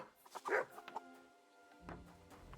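A dog in the medieval game Kingdom Come: Deliverance II gives a couple of short barks and yips, near and moderately loud, over quiet ambience with a low hum joining toward the end.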